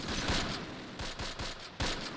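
Artillery barrage in the WWII strategy game Close Combat: a few heavy booming blasts strike at uneven intervals, the loudest near the end, over a steady rumble of battlefield noise with no talking.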